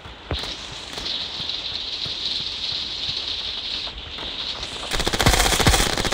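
Rapid automatic gunfire in the mobile shooter game Standoff 2 runs as a sustained stream of fast shots, growing louder and harsher near the end.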